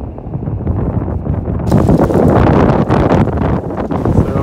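Strong wind buffets the microphone outdoors at a street corner as SUVs arrive for the Golden Globes ceremony, a loud, continuous roaring rumble that swells and grows harsher partway through.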